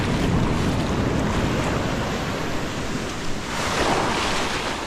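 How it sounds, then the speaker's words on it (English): A big ocean wave breaking on a beach, a loud continuous roar of surf with a fresh surge of crashing water near the end, heard close by without talk. "that was a big wave"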